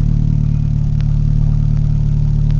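A 1987 Dodge Charger engine runs steadily at idle, a loud, close, even low rumble with a pulsing throb and no changes in speed.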